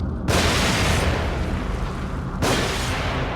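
An explosion in the horror video game The Evil Within: a sudden loud broadband blast that rumbles on, followed a couple of seconds later by a second burst, with no voices.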